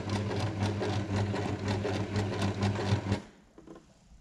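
A sewing machine stitching fabric toward a corner, running in a steady fast rhythmic whir with a pulsing needle beat for about three seconds before stopping, close and alone with a faint mechanical tail.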